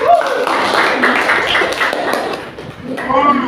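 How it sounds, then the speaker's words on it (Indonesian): Class of students clapping for a group after its presentation, scattered close handclaps mixed with voices talking in the room. "tepuk tangan buat kelompok."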